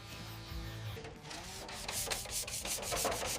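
Finer compound being worked into the quarter-panel paint of a Lotus Evora, a steady close rubbing and sanding texture with rhythmic swishes that grow slightly louder toward the end, no voices.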